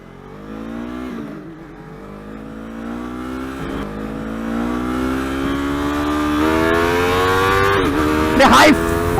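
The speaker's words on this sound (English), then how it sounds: "The high freaking revving engine." A Yamaha R3 parallel-twin motorcycle engine with an Akrapovic slip-on exhaust revs steadily higher, its pitch climbing over several seconds with a brief sharp burst near the end, close and loud.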